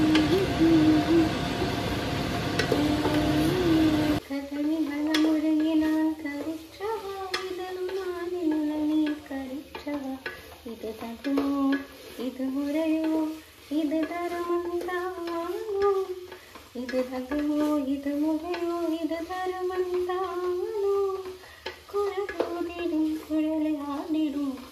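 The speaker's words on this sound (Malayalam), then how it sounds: "പിന്നെ നമ്മൾ ഇട്ട് കൊടുക്കുന്നത് ഇഞ്ചി വെളുത്തുള്ളി പേസ്റ്റാണ്. അതിൻ്റെ പച്ചമുളകൊക്കെ മാറുന്ന വരെ ഒന്ന് ഇളക്കി കൊടുക്കുക." Green chilies and ginger-garlic paste sizzle loudly in a frying pan while being stirred for about four seconds, then a melodic singing voice takes over and the frying fades into the background.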